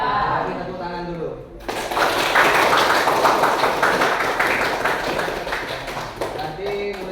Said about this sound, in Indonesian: Bagi tepuk tangan dulu.